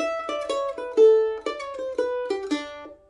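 A bright plucked mandolin plays a quick melodic phrase from Fisher's Hornpipe, with fast repeated triplet notes between held tones, clear and close.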